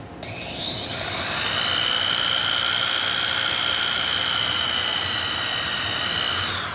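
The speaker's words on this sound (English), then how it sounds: "I'm just going to take the drill," A power drill boring a hole through a tool caddy, starting with a quick rising whine that settles into a steady, loud, high-pitched drone held for several seconds, with no talking over it.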